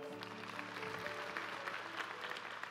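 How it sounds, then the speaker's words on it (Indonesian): A church congregation applauds as a faint, continuous wash of clapping, with a low musical hum underneath. "Kita beri tepuk tangan dulu untuk mereka."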